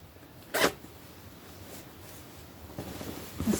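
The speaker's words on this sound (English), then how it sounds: "It has a side zipper. Does the zipper work? It's an invisible zipper." An invisible side zipper on a tote bag being tried, with one quick, close zip burst near the start, then quieter handling and a second short pull at the end.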